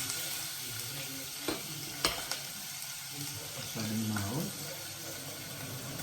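Chicken samosa filling fries in a pan or pot, giving a steady sizzle throughout with a few sharp clinks and scraping stirs.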